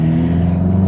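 A 2019 VW Mk7 Jetta GLI engine, tuned and with the firewall grommet removed, drones in a brief, loud, steady rev heard from inside the car, heavy and low, with no talking.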